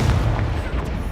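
A booming Confringo blasting-spell explosion in the Hogwarts Legacy video game, a brief, loud, deep burst that dominates the moment.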